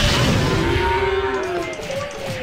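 Cows moo in the FootLOL football game, several long drawn-out lowing calls overlapping against crowd-like background noise, loud and close with no clear speech.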